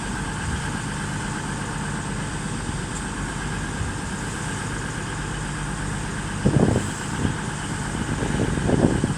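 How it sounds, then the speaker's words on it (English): A single Transport for Wales Class 153 diesel unit on the service from Shrewsbury arrives at Crewe station, its engine a steady low rumble with a few louder rattling bursts near the end, no talking. "As a single Transport for Wales 153 comes in with the service from Shrewsbury."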